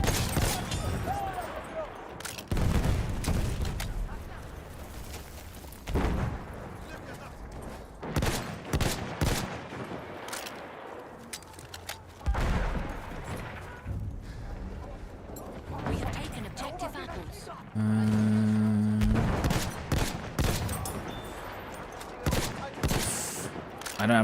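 Gunfire in a shooter game, with bursts of shots and heavier booms scattered through the stretch, at times shooting through a box, while a player talks over much of it.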